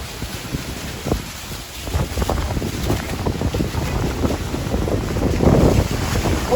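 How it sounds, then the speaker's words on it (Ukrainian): Strong wind at Niagara Falls buffets the microphone with a constant roaring rush that rises and falls in gusts. "тут такий вітер сильний"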